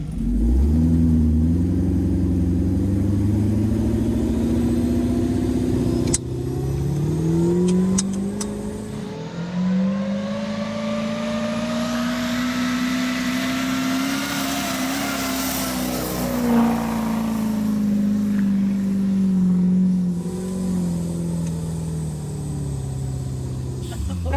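An off-road vehicle's engine revs hard and bogs while climbing rocks, a loud sustained roar that rises and falls in pitch over about twenty-four seconds, with no talk over it.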